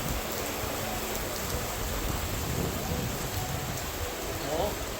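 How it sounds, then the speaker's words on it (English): Heavy rain pours steadily and loudly at a train station in the Czech Republic, a dense unbroken hiss with no talk. "The sound of the heavy rain."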